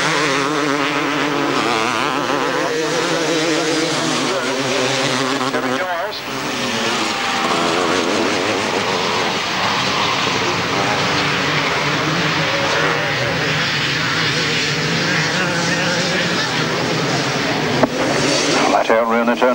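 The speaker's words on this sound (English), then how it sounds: "those bikes as they come round there" Motorcycles racing round a grasstrack at a 1995 meeting, a continuous loud roar of engines that swells and fades as the bikes pass, with a commentator talking over it throughout.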